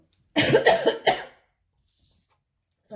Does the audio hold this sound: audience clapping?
no